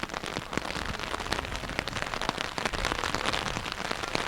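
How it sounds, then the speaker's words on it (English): Heavy rain pours down steadily at an outdoor high school girls' varsity soccer game, a dense continuous hiss of drops striking the ground and surfaces, even and unbroken throughout with no voices. "It's raining. Really bad."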